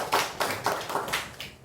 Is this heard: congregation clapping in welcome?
yes